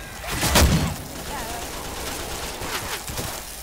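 Gunfire in the Left 4 Dead 2 zombie shooter, with a loud burst of shots near the start and scattered lighter reports later, heard alongside talking voices.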